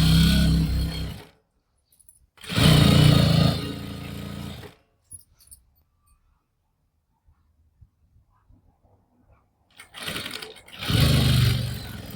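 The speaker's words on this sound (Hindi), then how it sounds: "अब ये सिलाई कंप्लीट करनी है सेम उसी तरीके से।" Sewing machine stitching a salwar lining in two loud bursts of rapid, rattling stitches separated by a long near-silent pause with faint handling clicks.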